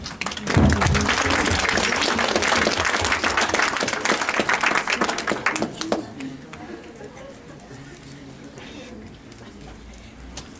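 An audience at a psychology conference breaks into loud, dense applause for an arriving speaker. It holds for about six seconds, then thins and fades, and a voice speaks over the quiet tail.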